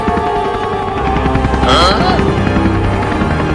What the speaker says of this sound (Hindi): अब हेलीकॉप्टर को ऊपर करो